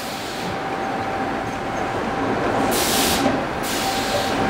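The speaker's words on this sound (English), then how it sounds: "That's the sound of the loaves being sucked out of the baking tins" Bakery machine sucking freshly baked bread loaves out of their baking tins: a loud, steady mechanical rumble with two sharp bursts of hissing air near the end, and no voices.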